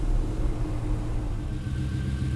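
A Ferrari 330 GTC out on a hot-day drive, a steady low engine rumble with road noise from inside the cabin, fairly constant with no clear revving.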